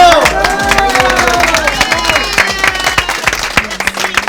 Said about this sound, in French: On applaudit, bravo!